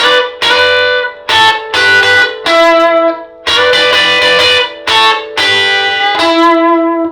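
Loud, sustained electric guitar playing a bluesy double-stop lick, two-note bends and slides stepping down the neck in short phrases with brief pauses between them.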